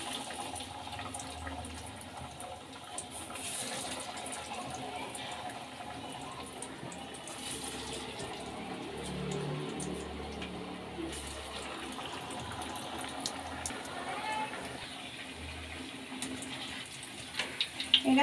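Lima bean vadas fry in hot oil with a steady, close bubbling sizzle that rises and falls over a long stretch, with brief clatters near the end.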